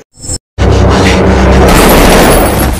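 Gunfire in a Dawn of the Planet of the Apes film scene where Koba shoots two men: a short burst, a sudden cut to silence, then a loud booming blast that rolls into sustained roaring noise.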